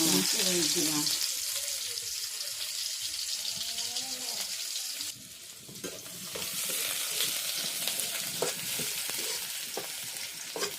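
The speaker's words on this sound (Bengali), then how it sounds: "তেল গরম হয়ে গেছে এখন যে পেঁয়াজ দিয়ে দিতে" Onions dropped into hot oil in a village kitchen, sizzling and frying loudly, with stirring scrapes and a brief dip before the crackling sizzle picks up again.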